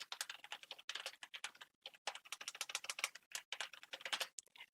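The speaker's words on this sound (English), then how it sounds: "let me type that in here" Quick, uneven bursts of keystrokes clatter on a computer keyboard, close and fairly quiet, with short pauses between typed words and no voices.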